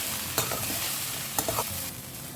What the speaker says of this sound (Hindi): तो ये देखिए भिंडी को मैंने अच्छे से फ्राई कर लिया है।